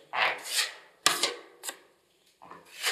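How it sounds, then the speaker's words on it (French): A plastering knife strikes wall filler in a handful of short, sharp, scraping taps, close and fairly quiet, irregularly spaced with brief pauses. "Des petits coups secs."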